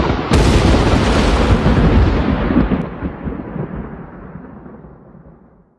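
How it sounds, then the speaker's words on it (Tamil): Loud thunder cracks suddenly and then rolls into a long, deep rumble that fades slowly over several seconds, with no other sound. "இப்படி பயங்கரமாக ஒரு இடி சத்தம் கேட்டுச்சு."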